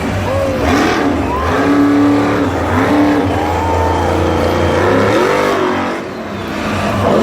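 Broken monster truck at a Monster Jam freestyle run in Salinas, 2019, with its engine revving loudly and steadily in wavering pitch over several seconds, cutting back briefly near the end and then returning.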